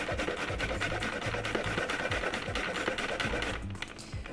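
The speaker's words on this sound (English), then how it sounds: "When you're grating ginger, you don't have to worry about taking the skin off. Just stick it right in." Fresh unpeeled ginger rubbed against a grater, a fast continuous rasping scrape close up that runs steadily and tapers off at the end.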